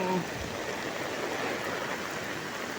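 Floodwater rushes steadily over a road in Laguna during Typhoon Kristine, a broad, continuous wash of flowing water that stays loud and even throughout with no clear speech on top.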